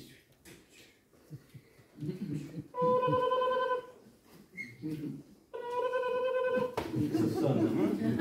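A telephone rings on stage during a live theatre performance, two bursts of steady electronic ringing separated by a short pause, heard amid stage noise and voices.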